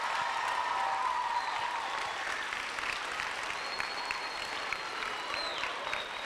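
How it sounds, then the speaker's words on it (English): An audience applauds the Celtics owner in a renovated school gym, with steady, dense clapping and a few faint cheers throughout. "let's give Wyc a big round of applause"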